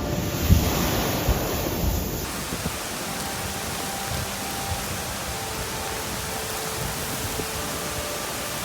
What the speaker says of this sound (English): Storm Ashley combined with high tides produced massive waves in Amroth, Pembrokeshire, a spectacular but dangerous display.